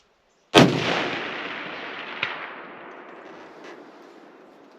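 A single loud, close crack from a Tikka T3 .30-06 rifle at an outdoor range, with a long rolling echo. About a second and a half later comes a faint metallic smack as the bullet strikes a steel warthog target at 400.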